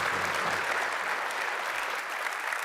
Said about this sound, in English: Big round of applause for Stephanie.